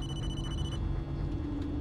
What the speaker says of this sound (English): Tap to get your phone.